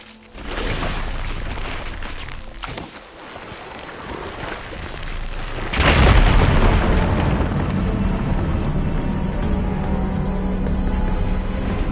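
A fire broom is ignited to blow apart rubble in Horizon Forbidden West: a steady crackling, rushing burn grows louder, then a heavy booming blast near the middle gives way to a sustained roaring, rumbling debris wash that continues to the end.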